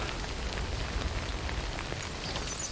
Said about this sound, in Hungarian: keres menedéket az eső elől